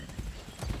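Hooves clip-clop in a quick, steady rhythm as a horse gallops in the video game Far Cry 6, moderately close, with no voices over them.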